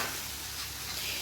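Pakoras dropped into a pan of cooked masala with crushed garlic give off a steady, moderately faint sizzle and hiss that runs unbroken, with no voices.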